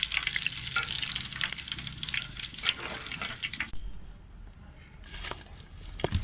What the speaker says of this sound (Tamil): கருவேப்பிலை எடுத்து அதில் பொரித்து எடுத்துக்கலாங்க